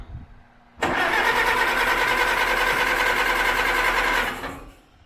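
An Allis Chalmers WD tractor engine cranks over on its first start attempt, a loud, steady whirring starter churn lasting several seconds that stops abruptly, up close with no talk.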